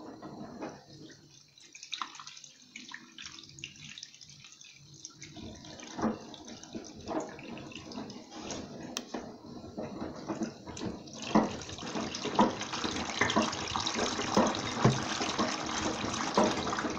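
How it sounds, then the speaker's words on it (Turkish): Water poured into a washing machine drum, a steady splashing and trickling stream that builds and grows louder toward the end, heard alone without talk. "Şöyle biraz su dökeyim makineye."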